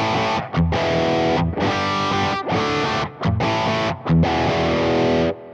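Electric guitar runs through an Orange amp model on a Positive Grid Spark, giving a gnarly, heavily distorted tone in loud sustained chord bursts separated by brief choppy stops, close and dry with no talking.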